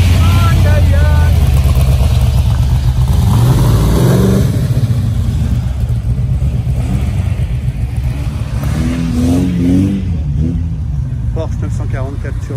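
Ford GT40 Superformance on a street terrace in Suresnes, its engine loud and close, rumbling and revving in rising surges, with someone talking excitedly over it.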